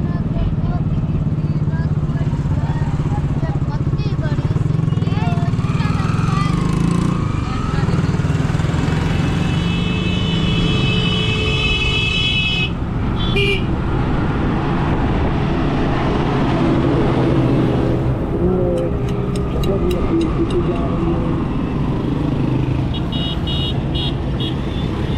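Road traffic streams past close by, cars and motorbikes coming the wrong way around road construction, a steady engine roar with passing swells and a few horn toots, under a man's speech.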